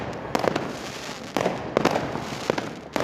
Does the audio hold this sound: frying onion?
no